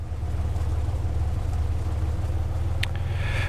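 A Cessna 182 engine idles at 1000 RPM in a flight simulator cockpit, giving a steady, low, even rumble that runs alone with no break. A brief higher click sounds near the end.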